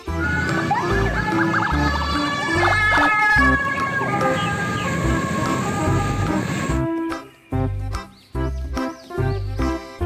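Toy ambulance siren blaring loudly alongside busy electronic toy sounds, then cutting into short bursts toward the end.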